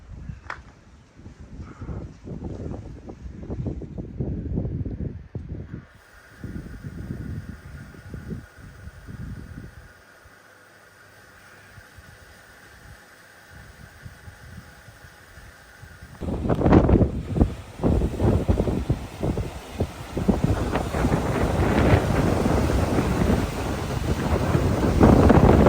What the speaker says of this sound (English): So windy, I can't even